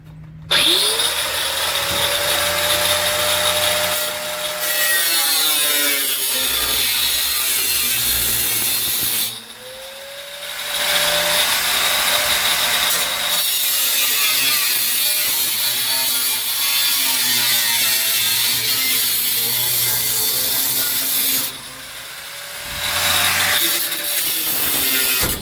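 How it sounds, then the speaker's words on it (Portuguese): Angle grinder cutting through the roof of a Kombi camper van, loud sustained grinding in long runs broken by short pauses as the disc spins down and restarts, with metallic ringing. "a esmerilhadeira deu uma golpeada"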